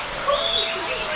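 A galah at Zoodoo Zoo in Richmond gives a brief, loud, screechy call, close by, with a voice nearby.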